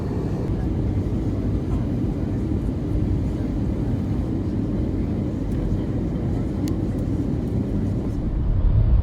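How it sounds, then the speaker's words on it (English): Steady broadband roar of an airliner cabin during a landing approach, a constant loud engine and air rush with no distinct breaks that swells slightly near the end. "Flight test, prepare for landing."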